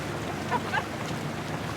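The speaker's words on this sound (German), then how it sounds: "Ja, da kommt große Welle." Water washing and sloshing from the wake of a passing boat on a river in Roermond, a soft, steady broadband rush with two brief splashy swells, no talking.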